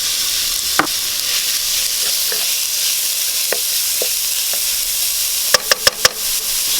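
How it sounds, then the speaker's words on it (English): Blitzed shallot aromatics sauté in a pan for Thai pork-stuffed tapioca pearls, giving a loud, steady sizzle throughout, with a few faint utensil taps and then a quick run of sharp knocks near the end. "I'm going to saute this for a good 2 to 3 minutes just to bring out the aroma flavor and just to sweat the shallots a little bit."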